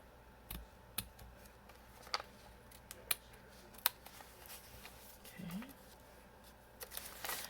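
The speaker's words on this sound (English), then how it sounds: "I'm going to go across and do trimming of laces" Scissors trim lace across the edge of an altered Dollar Tree notebook being made into a junk journal, giving faint, scattered snips and clicks at irregular intervals in a quiet room, with a soft voice faintly present.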